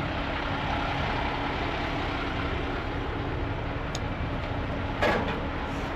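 A truck engine idles in a constant, loud, broadband rumble that holds steady throughout, with a brief click or knock near the end.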